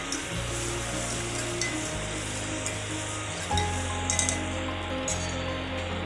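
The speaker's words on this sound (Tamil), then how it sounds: "இப்போ வெங்காயம் எல்லாமே வதங்கி கொண்டிருக்குது" Onions sautéing in a pan for a soya meat curry, a soft steady sizzle with occasional light clinks of a spoon against the pan, faint and close, with a low background hum underneath.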